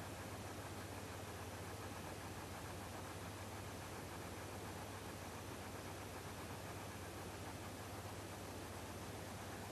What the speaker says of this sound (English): I'm just playing around with the white noise right here